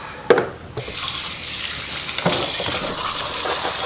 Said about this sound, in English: So I'm gonna run cold water over it